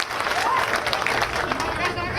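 A crowd at a political rally claps in a dense, continuous wash of applause, steady in loudness throughout, with murmuring voices mixed in.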